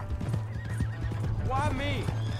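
In Red Dead Redemption 2, a horse gives a loud, wavering neigh near the end over a few clip-clopping hooves and a low steady hum, with voices talking throughout.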